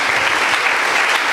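A church congregation applauds and cheers for the Lord, a loud, dense burst of clapping from many hands filling the room without a break.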